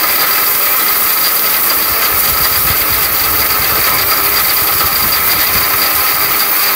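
A powerful steel robot blender grinds whole turmeric with a loud, constant motorized roar and rattling hum. The sound is steady and unbroken, with no voices over it.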